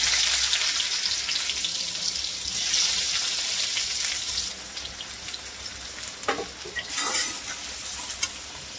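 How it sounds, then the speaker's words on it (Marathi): Sliced onion sizzles and crackles in hot oil seasoned with asafoetida, stirred in a pan for a besan pithla; a bright, steady frying hiss with a few sharper pops near the end, no speech. "कांदा थोडासा परतून घेऊया तेलामध्ये।"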